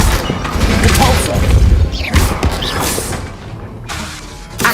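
A Depulso spell cast in Hogwarts Legacy on PS5, a loud whooshing burst with crashing impacts and a booming thud, layered over dense game effects, with a few sharp bursts and a sweeping rise near the end.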